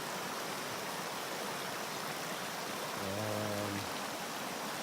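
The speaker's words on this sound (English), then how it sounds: "Stopping to get some water in this lovely little creek." Steady broadband rush of running water from a small creek on the Abrams Falls trail flowing close by, with a brief low tonal hum partway through.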